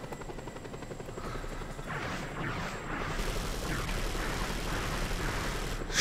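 Helicopter in Just Cause 2, a steady droning rotor and engine noise holding for several seconds with some rising clatter, closing on a sudden sharp burst at the end.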